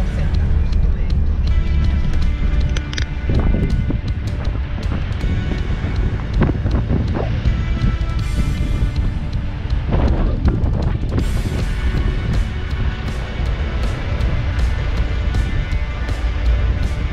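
Wind blowing at Budoni, Sardinia, a steady rough buffeting roar on the microphone with occasional stronger gusts, loud and continuous over the whole stretch, with faint voices underneath.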